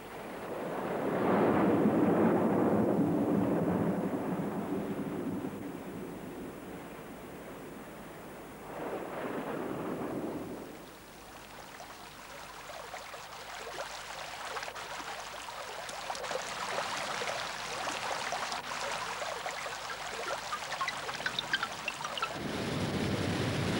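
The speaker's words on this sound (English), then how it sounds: "The fierce downpours soon replenish the land." Heavy tropical downpour during a fierce November storm season in northern Australia, a steady broadband roar of rain and water that swells, briefly eases around the middle, then returns loud and dense to near the end.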